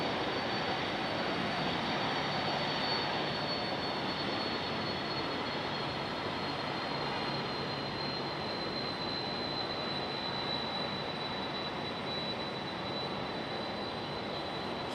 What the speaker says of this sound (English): You should be hearing that FedEx 767